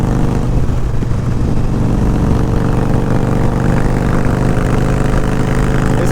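A sport bike engine growls steadily for the full stretch, a loud, continuous, rumbling drone with no pauses and no voices over it.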